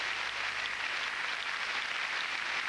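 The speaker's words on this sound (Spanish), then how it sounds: "El público aplaude." Tennis crowd applauding at a women's match in Zurich, a steady, even wash of clapping that holds at the same level throughout, with no one speaking over it.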